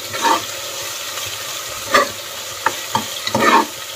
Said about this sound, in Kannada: ನೋಡಿ ಈಗ ಈರುಳ್ಳಿ ಫ್ರೈ ಆಗಿದೆ